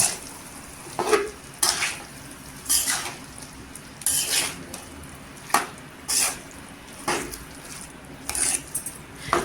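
Potato bhaji made from half a kilo of potatoes is stirred in a pan over a low gas flame, giving repeated scraping swishes roughly once a second over a soft, steady sizzle, close and clear with no talk.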